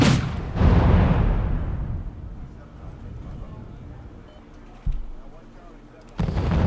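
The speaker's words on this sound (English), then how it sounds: "this long range anti-air here, the book, has a chance to shoot both of them down" Long-range Buk anti-air missiles launch in Wargame: European Escalation, a loud booming blast that rumbles and fades over a couple of seconds, followed by a smaller thud and another sharp launch near the end.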